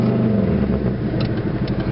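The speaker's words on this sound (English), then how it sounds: "The gas pedal's stuck." A car engine with a stuck gas pedal, run after sitting unused for a long time and low on oil, revs loud and steady at close range, with a strained mid-pitched drone and no talk.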